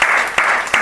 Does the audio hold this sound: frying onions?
no